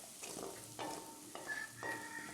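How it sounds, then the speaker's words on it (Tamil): Ginger garlic paste sautéing in oil for a prawn pickle gives a faint, steady sizzle broken by a few quiet stirring strokes, heard close with no voices. "அதோட இஞ்சி பூண்டு விழுதை சேர்த்து வதக்குறேன்."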